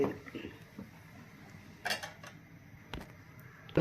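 A metal cooking pot is handled nearby, with a few sharp clanks and scrapes against utensils amid quiet kitchen background.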